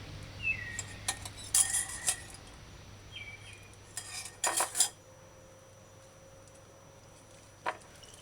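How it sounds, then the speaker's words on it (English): A metal measuring spoon clinks and taps against a dish while oyster sauce is added for a chicken and cauliflower dish, a few scattered bright clinks with quiet gaps between them. "Measure and add 2 tablespoons of oyster sauce."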